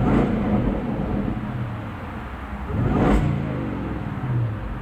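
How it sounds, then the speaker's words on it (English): A Land Rover Defender 110 V8 engine is revved while the vehicle stands still. It gives a close, smooth rising roar that eases back, then swells again about three seconds in. "Just give it a little rev here."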